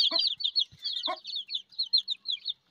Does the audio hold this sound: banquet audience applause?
no